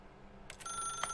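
A telephone rings in the video game The Stanley Parable, sounding as one bright electronic ring that starts abruptly after a quiet moment and carries on with a sharp accent near the end.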